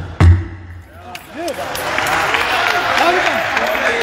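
Applause from a large crowd at a Hindu religious gathering in Ayodhya rises after a sharp thump, building into steady, dense clapping that continues, with voices mixed in beneath it.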